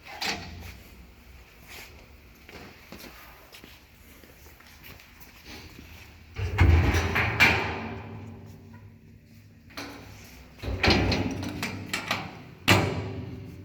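Several solid clunks and a sliding bang as a metal machine safety guard is shut and latched during a belt change, with quieter handling noises between.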